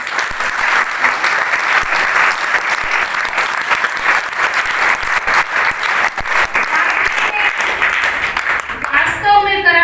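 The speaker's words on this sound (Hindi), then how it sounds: "बार फिर जोरदार ताली" Loud, sustained audience applause fills the room without pause at a motivational talk for a nutrition campaign, the clapping dense and steady throughout, thinning slightly near the end.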